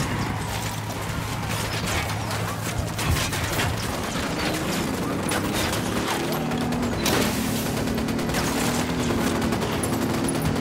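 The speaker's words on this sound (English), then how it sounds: "I'm opening fire on these shitheads!" Rapid automatic gunfire from a firefight in the video game Ghost Recon Wildlands, with continuous bursts of shots and mechanical rattling running throughout under a low hum.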